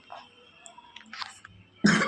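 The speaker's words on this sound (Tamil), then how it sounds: "ஓகே இருமல் வருதே" A single sharp cough bursts out at the end after some quiet shuffling and small mouth noises.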